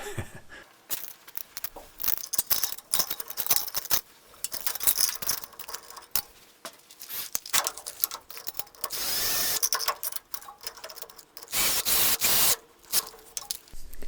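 A hand pump on a brake bleeder kit pressurised while bleeding the brakes on a Baja, a long run of irregular ratcheting clicks and short hissing pushes, close and fairly quiet, with busier hissy stretches in the middle.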